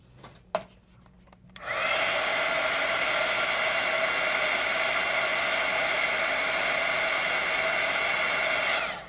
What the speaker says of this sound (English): I'm going to zap this really quick with the heat tool.